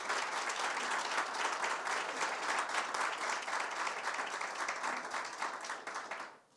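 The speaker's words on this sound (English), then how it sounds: "you can clap for that." An audience applauds a $2.5 billion Henry Ford Hospital expansion announcement in New Center, a dense, steady wash of many hands clapping that carries on for several seconds before fading out at the end.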